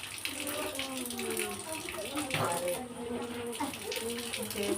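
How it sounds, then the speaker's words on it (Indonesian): A toothbrush is rinsed under a running tap, the water splashing steadily and fairly loud for a few seconds, with brief knocks and a voice talking faintly underneath. "Oke, sekarang cuci sikat gigi."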